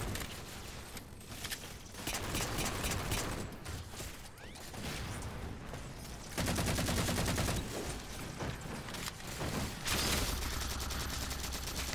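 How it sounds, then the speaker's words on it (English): Covenant weapons firing in Halo 4, bursts of rapid sci-fi gunfire and mechanical clatter coming in waves, loud and dense with brief lulls between volleys, no talking. "Covenant weapons!"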